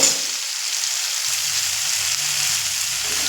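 Spice masala with salt and turmeric is sautéed in a pan, giving a loud, continuous, close frying sizzle with faint stirring scrapes beneath it.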